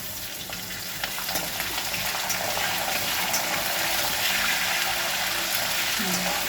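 Cashews frying in hot oil with curry leaves make a loud, continuous, hissing sizzle close by that grows slightly stronger and stays steady throughout.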